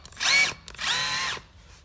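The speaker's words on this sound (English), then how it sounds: "A little IKEA drill." A small IKEA cordless drill whirs in two bursts, a short spin-up and then a longer steady run, close and fairly loud, with its pitch rising and falling as it starts and stops in a quiet garage.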